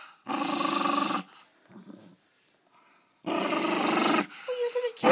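An angry dog growls in two long, loud, rough bursts separated by a quieter pause, close to the listener, with a brief whine near the end.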